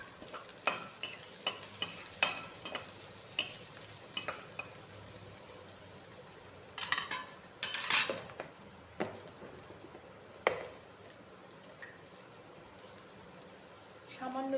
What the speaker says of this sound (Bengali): পেঁয়াজগুলো একটু গোল্ডেন গোল্ডেন ভাজবো।